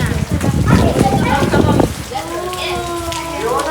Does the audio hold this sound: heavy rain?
yes